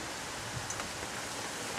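Steady rain from a storm hissing down, a dense, even wash of drops with no voices.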